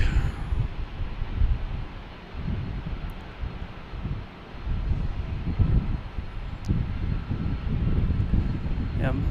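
Airplane engines roar steadily at Boston Logan Airport, a broad rumbling wash heard from an outdoor vantage point with wind buffeting the microphone throughout.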